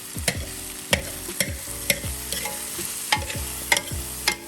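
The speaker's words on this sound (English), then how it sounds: "Just wanna saute it just a little bit." Ginger paste and two tablespoons of garlic sauté in a pan, with a steady sizzle broken by repeated sharp scrapes and clanks of a utensil stirring against the metal, close and fairly loud, no voices.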